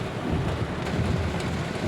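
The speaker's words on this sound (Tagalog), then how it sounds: "Oh no, good morning ang rain. Kusog jud ang ulan, guys." Heavy morning rain pouring down outdoors, a dense continuous roar with gusty wind rumble, loud and close.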